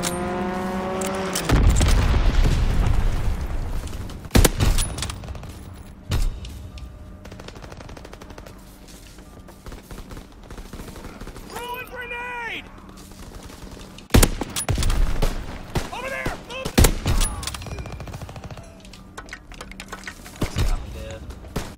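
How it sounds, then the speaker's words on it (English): In the Call of Duty WWII video game, a fighter aircraft strafing run brings bursts of rapid gunfire and booms. Engine roar and scattered shots follow under intermittent game voices. "Call for a strafing run."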